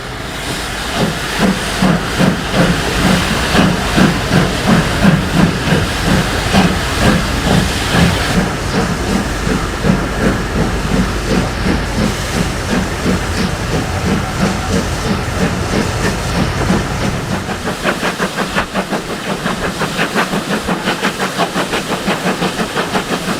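Steam locomotive 3440 City of Truro pulling into Bristol Temple Meads station, loud rhythmic chuffing and hissing steam filling the scene, the beat steady and strong before the exhaust quiets into a softer clatter toward the end.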